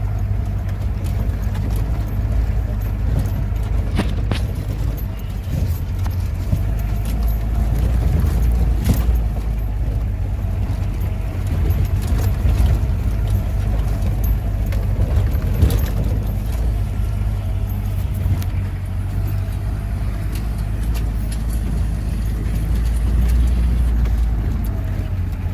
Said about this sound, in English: Our Jeep's driver, Mr. Shahid, is known for such tough terrains